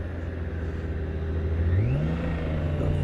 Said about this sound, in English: Oh, listen to that engine, it's so groovy.